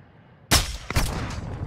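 Gunfire in the Call of Duty DMZ video game, a sudden loud close shot followed by a second crack and a sustained rumble of continued firing and echo.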